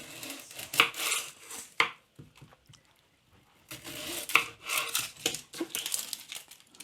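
Three onions being peeled for an omelette, with crisp papery crinkling and rubbing of dry skins in irregular close bursts, a quiet pause in the middle, then more rustling and tearing.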